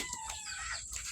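Chickens and ducks in a feeding pen cluck softly at close range, a busy scatter of short calls over low shuffling noise.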